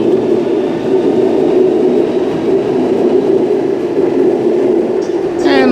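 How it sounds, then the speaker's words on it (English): A Sydney Waratah Series 1 electric train pulls away from the platform at night, its steady loud rumble filling the whole stretch, with a brief wheel squeal near the end. "Whilst that's Waratah Series 1 A50 now left departing platform number 4 Hornsby via Gordon service"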